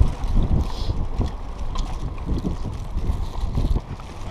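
Wind blows at sea over a boat, buffeting the microphone with a steady, rough low rumble that swells in gusts throughout, with no voices.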